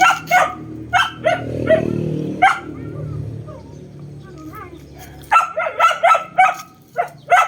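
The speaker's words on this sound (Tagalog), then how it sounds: "Ayan na yung aso ko." A pet dog at home barks in quick repeated bursts, loud and close, with some whimpering and low growls between, while someone talks softly in the background.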